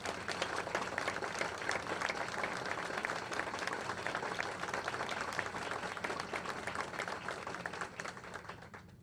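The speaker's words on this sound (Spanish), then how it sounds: "para quien pedimos también un fuerte aplauso" A large crowd at a commemorative event about the fall of a dictatorship applauds steadily and densely, sustained throughout and easing slightly at the very end.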